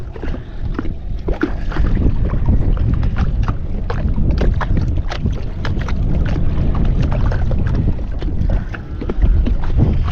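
A boat on the water at Kala Doba in Habiganj, carried on a steady wash of water and strong wind buffeting the microphone, continuous and close.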